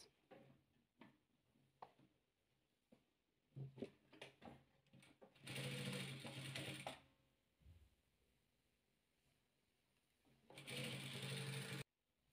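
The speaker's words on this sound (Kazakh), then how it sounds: "Осылай тігіп аламыз." Short bursts of a sewing machine stitching fabric strips: scattered ticks and clicks first, then two loud, steady whirring runs of stitching, each lasting about a second or more, close up in a quiet room.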